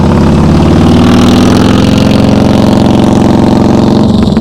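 A motorcycle engine held at low throttle during slow-speed riding practice, a loud, close, steady mid-low rumble with an even pulsing idle that barely varies throughout.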